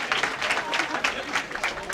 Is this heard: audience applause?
yes